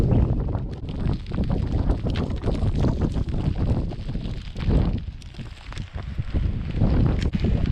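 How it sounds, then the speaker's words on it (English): Strong wind on an Appalachian Trail mountaintop roars and buffets the microphone without a break, gusting louder and softer in low rumbling bursts. "Very, very cold up here, very windy."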